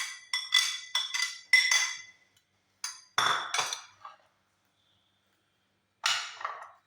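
Sweet corn and salad ingredients tipped into a bowl, giving a run of sharp clinks and clattering knocks in bursts, with pauses between and a final cluster at the end.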